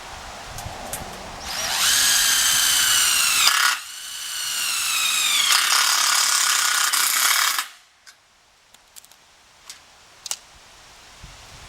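Power drill driving screws into timber roof rafters, two long loud whirring runs with a ratcheting rise in pitch, then quiet with a few faint clicks and knocks.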